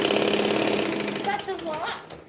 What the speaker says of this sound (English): None of my machines ever like to do back stitching